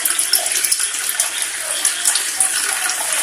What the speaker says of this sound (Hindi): आधा घंटा हो गया है, अब हम इसका पानी अलग करके निकाल लेंगे।